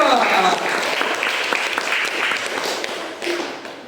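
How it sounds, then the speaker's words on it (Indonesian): Classroom applause from students for group 2 after their presentation, a lively burst of clapping with a few taps and thumps, tapering off toward the end while voices sound faintly underneath. "Tepuk tangan untuk kelompok 2."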